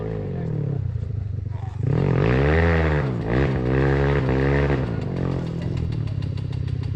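Motorcycle engine revving hard at full throttle, loud and close, with rising and falling pitch sweeps over a steady rumble; a voice shouts during it.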